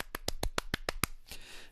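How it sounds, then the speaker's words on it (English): Seven sharp hand claps in a quick, even rhythm, then a softer rustle fades out; close and fairly quiet, with no voices. "I would clap at you."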